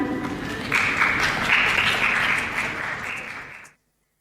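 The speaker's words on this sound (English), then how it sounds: "Please, a big round of applause for our competitors to appreciate them." Audience applause for competitors at an International Day of Education event in an auditorium: steady, full clapping from a large crowd that swells a little partway through, then cuts off abruptly.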